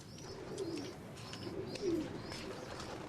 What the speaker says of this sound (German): Die Tauben übrigens sind auch Bewohner der vermauerten Stadt.